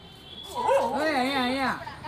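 A dog, one of several at the spot, gives high, wavering whines and whimpers close by. The rising and falling cries run for over a second, with a low background hum.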